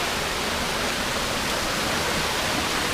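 Amatong Falls on the Piit river in Batangas City, a dense, steady roar of rushing water close by, broadband and unbroken with no voices.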